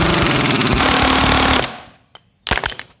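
A socket wrench works a bed knife bar bolt on a Toro Greensmaster 1600 reel mower: a loud, dense mechanical rattle for about a second and a half, then silence broken by a brief click and a final short burst of clatter.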